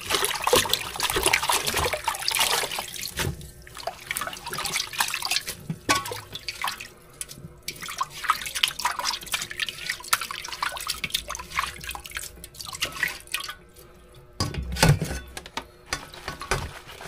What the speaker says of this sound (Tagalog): Ilipat natin dito para tumulo yung tubig.